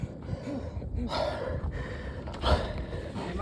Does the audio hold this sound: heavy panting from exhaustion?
yes